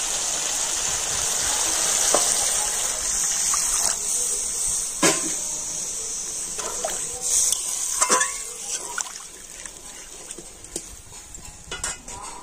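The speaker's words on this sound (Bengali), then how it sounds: "আর এবার আমি দিয়ে দেব জল" Water poured into a pan of oil-released frying spices for a vegetarian cauliflower curry, a steady hissing gush with clinks of utensils and pan scrapes scattered throughout, close and moderately loud, no talking.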